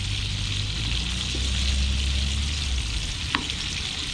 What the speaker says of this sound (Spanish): Pero hay que se vayan friendo despacio, despacio.